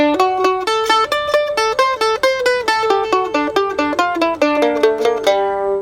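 A quick picked bluegrass ending lick, likely mandolin or guitar, runs through rapid bright notes in a steady rhythm and ends on a ringing final note, close and solo.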